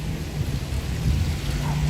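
Low thunder rumbles through steady rain falling on a New York City street during a summer rainstorm, a constant wash of drops with a deep rolling swell near the end.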